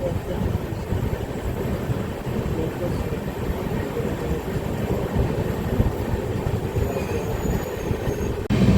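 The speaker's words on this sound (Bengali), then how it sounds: "5 মিনিট পর আমাদের ট্রেন আবার শুরু হলো মেচেদা থেকে" The Kriya Yoga Express on the Howrah to Ranchi route picks up speed after leaving Mecheda station, a steady dense rumble and rattle of wheels on track heard from inside the coach, continuous and fairly loud throughout.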